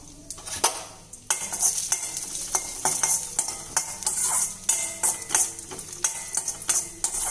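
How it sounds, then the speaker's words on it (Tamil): Cashews stirred in hot ghee in a pan with a metal spoon: repeated scraping and clinking strokes over a soft, steady sizzle, close and fairly loud, no voices. "அடுத்ததா கொஞ்சம் நெய் விட்டுக்கிறோம். இப்போ முந்திரி இதில் சேர்த்துக்கிறோம்."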